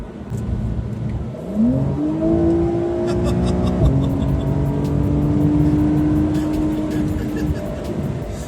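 A 2020 Porsche 911 Carrera 4S engine revs up from low to a sustained higher whine, holds, shifts once, then continues a smooth steady drone, heard from inside the car without talk.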